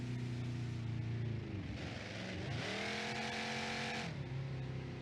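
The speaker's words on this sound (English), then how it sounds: "It'll still spin the tires." Car engine in BeamNG.drive revving hard while the tires spin, a loud steady drone that dips and climbs sharply in pitch mid-way before settling, with a hiss of tire noise over it.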